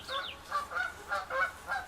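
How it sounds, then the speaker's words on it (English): Canada geese honking as they fly overhead, a rhythmic series of about six nasal calls, moderately distant and fairly faint against a quiet outdoor background. "future supper flying overhead there, Canada geese"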